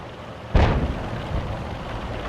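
Single artillery shell explosion in World of Tanks, a sharp boom at a moderate distance followed by a rumbling decay over steady background noise.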